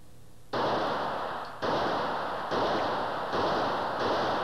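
A handgun is fired repeatedly at a range, five sharp loud bursts spaced about a second apart, each followed by a lingering ring.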